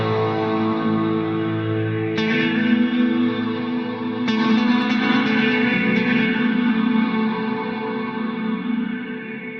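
Electric guitar played clean through a Line 6 DL4 MKII pedal with its reverb modes engaged, sustained chords blooming into a big, washy reverb tail, loud and close with no talking.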